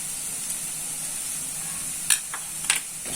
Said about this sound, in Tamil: தேங்காவை சேர்த்துட்டு அதோட நல்லா கலந்து விட்டுக்கலாம்.